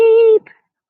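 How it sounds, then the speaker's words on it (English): A baby sheep at a Shaker village farm gives a single short, loud bleat, close by, with no talking. "There are sheep. Oh, and look. There's a baby sheep."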